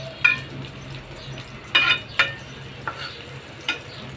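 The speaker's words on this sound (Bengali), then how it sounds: "চাল কুমড়াটা আমি ভেজে ডিমটা ভাজবো" Ash gourd pieces sizzle softly in oil in a pan while a spatula scrapes and stirs in a few sharp, irregular strokes, close and fairly quiet.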